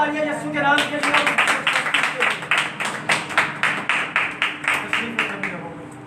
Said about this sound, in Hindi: तालियां यीशु के नाम के लिए।